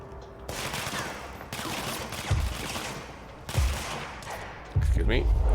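Repeated bursts of gunfire from the video game Control, in the Oldest House, crack out in several loud, close volleys separated by short pauses, with heavy thuds landing between them.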